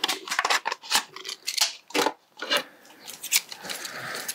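Scissors cut into a plastic Coke bottle while a terrarium is being made, with a series of close, crisp snips and crunches and scraping plastic, uneven in rhythm and heard alone.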